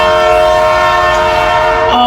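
A departing train sounds a loud, sustained horn chord that holds steady over a low rumble, then shifts briefly near the end.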